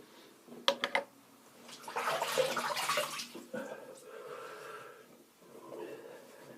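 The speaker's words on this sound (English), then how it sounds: "So I'll just splash some water on my face." Water splashes in bursts, close and fairly loud, while a man rinses his face at the sink before shaving; a few sharp drips come early, then a longer stretch of splashing and running water fades in and out.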